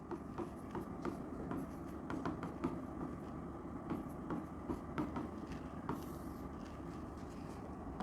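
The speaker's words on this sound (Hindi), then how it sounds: "एक तरफ हम लिखेंगे तेल," Chalk or marker writing on a board during a chemistry lesson, a steady run of scratchy strokes and taps at close range that continues for several seconds with no talk over it.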